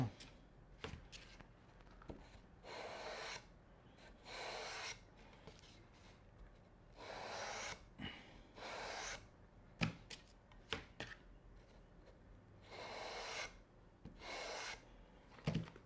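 Repeated rasping strokes of a sanding block on the edges of a racquet grip, coming in short bursts separated by pauses and a few light knocks, close and moderately quiet.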